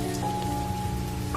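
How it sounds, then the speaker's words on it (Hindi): Heavy rain pouring down steadily, a dense continuous hiss of drops on surfaces, close and even, with no voices. "फिर से तेज बारिश शुरू हो गई।"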